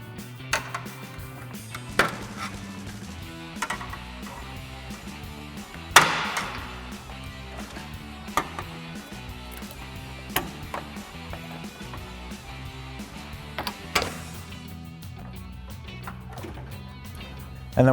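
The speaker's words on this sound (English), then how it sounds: "So I've got a clip remover tool to pop these out." A clip remover tool pops plastic push clips out of the grille on a 2010-2018 RAM 2500, giving sharp irregular snaps and clicks spaced a second or two apart over a low steady hum.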